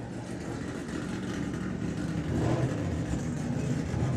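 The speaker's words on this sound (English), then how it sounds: "And that's the car that you can hear just starting up." Supercharged Camaro outlaw drag car starting up at Santa Pod Raceway, engine rumbling low and steady before swelling louder near the end, heard at some distance.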